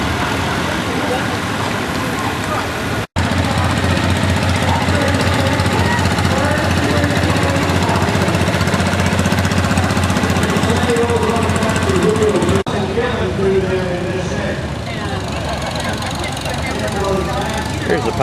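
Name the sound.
engine of a power grader converted from a Farmall M tractor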